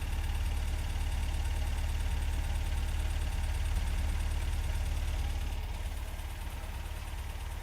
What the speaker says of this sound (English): Let's have a listen at the idle.